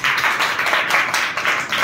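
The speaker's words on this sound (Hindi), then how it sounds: "बच्चे ताली बजाएंगे" Children clap together during a classroom song, a dense and fairly loud patter of many hands with a slightly pulsing rhythm.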